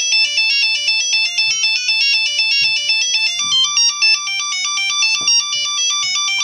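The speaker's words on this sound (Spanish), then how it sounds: "es un tono monofónico" A Pololu Zumo 32U4 robot plays a monophonic test tone, a loud, rapid electronic melody of beeping notes stepping up and down like a ringtone, with faint clicks beneath.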